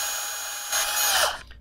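A power drill bores into a plastic Canon imagePROGRAF PRO-1000 ink cartridge, running as a steady high whine that swells louder and harsher midway as it bites into the plastic, then stops abruptly.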